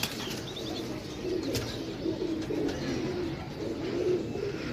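Pigeons for sale coo in low, repeated throaty murmurs, with brief wing flaps and rustles in a busy loft, close and continuous.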